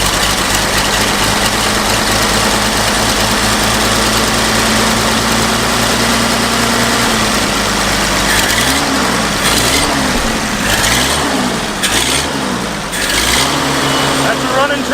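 Old abandoned tractor engine running loud and steady up close, a continuous low rumble with a few rev rises and dips near the end, people talking over it.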